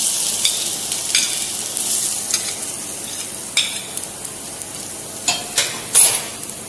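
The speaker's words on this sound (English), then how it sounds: "Lightly fry the garlic." Garlic sizzles steadily in hot oil in a pan for a Chinese dish, a continuous bright frying hiss broken by a few stirring scrapes and light clinks toward the end.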